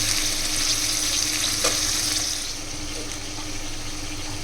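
Turkey berries hit a hot pan of softened onion and tomato and fry with a steady, bright sizzle, with a brief stir partway through and the crackle easing slightly toward the end.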